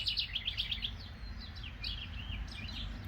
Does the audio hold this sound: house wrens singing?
yes